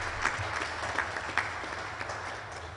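Audience at an official announcement event applauds, a brief steady patter of clapping from a crowd heard at moderate distance, fading slightly toward the end.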